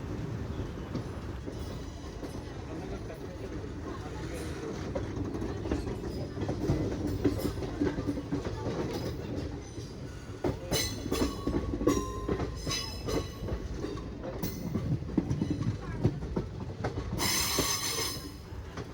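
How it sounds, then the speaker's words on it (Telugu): The Narsapur–Nagarsol Express (train 12787) with ICF coaches rolls along the line, heard from inside as a steady loud rumble with clickety-clack of wheels and bursts of squealing from the rails, no speech. "మన ట్రైన్ వచ్చి ఇంకా ఐసీఎఫ్ కోచెస్తోనే రన్ అవుతున్నాయి, ఎల్హెచ్బితో కాదు."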